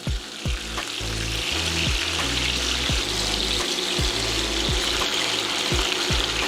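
Chicken browns in a hot pan after being flipped, with a continuous loud sizzle and hiss. Low rhythmic thumps sound beneath it.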